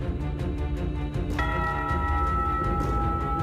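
A village church bell ringing alone, with resonant struck tones over a dense, murky background. It sits mid-distance and sustains evenly for a few seconds.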